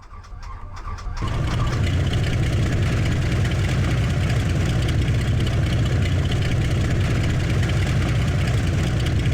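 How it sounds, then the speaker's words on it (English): A propeller aircraft engine in Combat Flight Simulator cranks and catches, then settles into a loud, steady idle drone that continues alone. "Need to start the engine."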